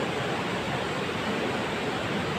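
The swollen, silt-laden Saryu river near Kapkot roars after heavy rain, a steady, dense broadband rush of water with no breaks, fairly loud and continuous, with no voices.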